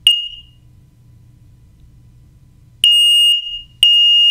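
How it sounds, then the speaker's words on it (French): An X-Sense SC07-WX smoke detector sounds its test alarm when the button is pressed: a loud, piercing high-pitched beep at the start, then two more beeps near the end, with quiet room hum in between. "Voilà. C'est ainsi que sonnera la petite alarme. Elle fonctionne bel et bien"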